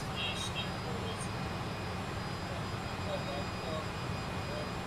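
A small aircraft approaching a 1,000-foot runway in Mexico gives a steady, even engine drone throughout, with a voice speaking over it.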